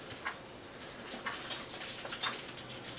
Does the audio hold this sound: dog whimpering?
yes